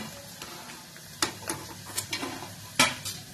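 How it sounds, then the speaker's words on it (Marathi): French fries frying in hot oil over a high gas flame, a steady low sizzle with scattered clinks and stirring taps of a utensil against the pan. "आणि गॅस मोठा करूनच आता हे आपल्याला तळून घ्यायचं"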